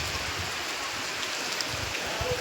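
Monsoon rain falling outdoors, a continuous dense hiss of drops on surfaces at an even level, with no voices.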